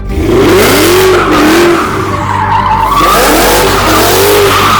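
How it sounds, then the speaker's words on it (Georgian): A 23-year-old supercharged Mercedes W211 E55 AMG tuned to about 650 hp roars through four exhaust tips, loud and close, its engine note swelling and falling in repeated revs. "ბაჩოკებიდანვე გამომავალი 4 მაკუჩი და ხმა"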